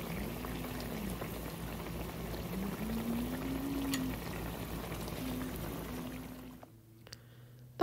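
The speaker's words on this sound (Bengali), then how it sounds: "এখানে গরম ঝোল দিয়ে দিল আম্মু" Hot broth poured into a simmering fish curry being cooked outdoors, a steady close bubbling and pouring wash with a low hum that runs for most of the clip, then drops away abruptly near the end.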